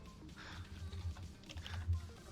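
Quick, fairly faint keyboard typing in a co-op Satisfactory gaming session, a loose patter of key clicks bunched into short bursts with no talk over it.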